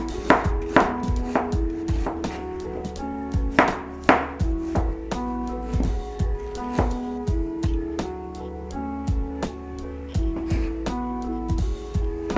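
A knife chopping an onion on a board, steady repeated sharp cuts in a brisk rhythm, close and fairly loud, with faint tonal background noise and no talk.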